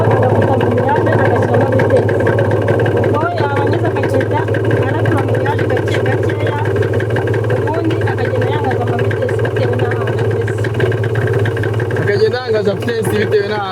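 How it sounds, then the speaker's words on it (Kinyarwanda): A five-speed motorcycle runs steadily during a riding lesson, its mid-pitched engine droning continuously beneath people talking, with a brief rise in noise near the end. "ino moto yacu ifite vitesse 5"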